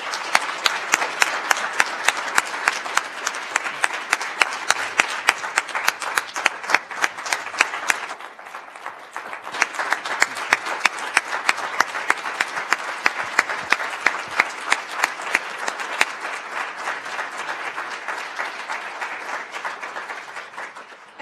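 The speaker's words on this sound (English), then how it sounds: "join me once again in celebrating Earl with a round of applause" Sustained applause from an audience honoring a medal recipient at a celebration event, dense steady clapping that dips briefly midway then continues strong, no talking.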